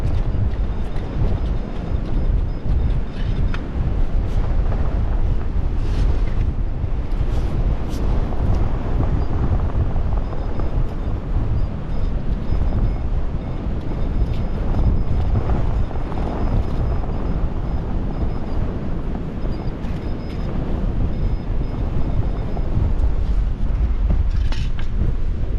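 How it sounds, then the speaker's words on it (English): Strong wind on a very windy beach buffets the microphone in a continuous loud roar, steady and rumbling for the whole stretch with no voices. "Can't put up with this wind anymore, it's hard going."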